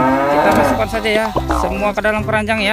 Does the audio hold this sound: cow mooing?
yes